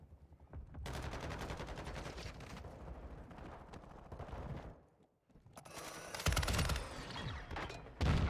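Raal MG machine gun fires in Call of Duty MW2, long sustained full-auto bursts that are loud and dense, broken by one brief pause before another heavy burst. No one talks over the gunfire.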